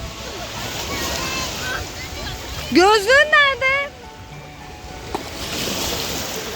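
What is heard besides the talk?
sea waves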